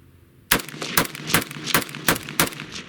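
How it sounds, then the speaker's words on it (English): AK rifle firing at an outdoor range, six sharp loud shots in a fast even series after a brief quiet start, each with a short ringing tail. "I am going to shoot this way. This is the first AK I kept."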